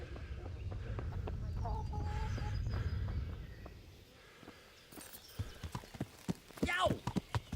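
Hooves clip-clop past in a medieval-style video game: rapid, close, irregular thuds that grow louder toward the end, following a stretch of low rumble, with a voice and a brief animal call mixed in.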